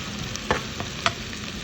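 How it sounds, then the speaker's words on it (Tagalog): Garlic sautés in a hot pan under a constant sizzle, while a utensil stirs it with two or three distinct scrapes and knocks close by. "i-add na din po natin dito yung ating garlic. So ayan, haluin lang din po natin hanggang sa lumabas yung kanyang aroma."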